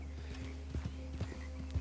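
Horse hooves clip-clopping in Red Dead Redemption 2, a quick regular pattern of soft thuds over a steady low engine-like hum, fairly faint and continuous.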